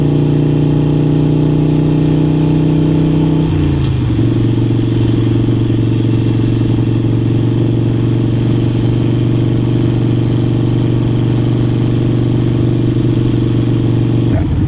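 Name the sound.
motorcycle speeding up through a turn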